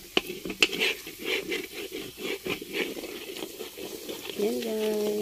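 Coconut milk cooking down into latik is stirred in a pan, with soft scraping strokes repeating over a low bubbling simmer, close and moderately loud, while a person talks at intervals.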